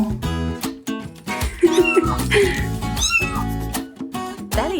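Domestic cat meowing repeatedly in close, loud calls while being held belly up, with a human voice talking over parts of it.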